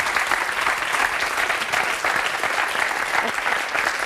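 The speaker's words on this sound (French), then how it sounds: "Oui, on peut les applaudir." A studio audience on a French television show claps warmly for a newly married couple, a dense, steady burst of applause sustained throughout.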